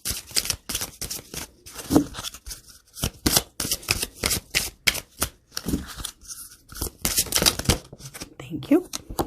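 A deck of oracle cards is shuffled by hand in repeated quick riffling bursts with short pauses, close and crisp, with no talking.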